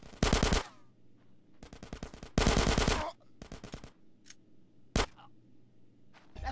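Machine gun fire in the video game Grand Theft Auto San Andreas, several loud bursts of rapid automatic shots separated by short pauses, with a few single shots.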